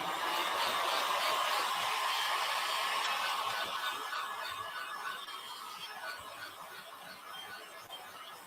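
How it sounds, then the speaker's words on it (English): A heat gun drying a DTF craft transfer makes a steady, close airy whoosh that holds level and then fades slightly toward the end. "So I'm just using a heat gun."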